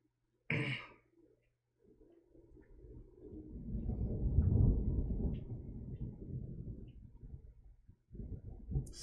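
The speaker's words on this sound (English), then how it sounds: "Spooky thunder." Rumbling thunder in an episode of the One Punch Man anime swells slowly to a loud peak and then fades, standing alone with no talk over it, and a short sharp burst comes just before it.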